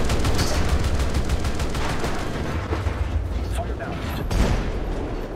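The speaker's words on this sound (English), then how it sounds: "Apparently I seem to be being shelled." Heavy incoming shell fire strikes around a ship in War Thunder naval combat, a dense, continuous roar of booming blasts and gunfire with no clear gaps between impacts.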